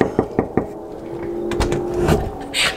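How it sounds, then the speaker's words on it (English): Knuckles rap on a house door three times in a quick, evenly spaced series up close, followed by a few softer thumps and a rustle as the door is handled. "you're about to knock"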